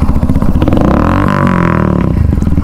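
A Hunter or Splendor motorcycle engine runs loud and close during a ride, a continuous rough throbbing drone with pitch rising and falling as the throttle changes, no talk.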